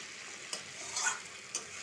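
Tomato, potato and amudi fish curry stirred in a frying pan, soft close scraping strokes over a faint continuous sizzle, with no talk.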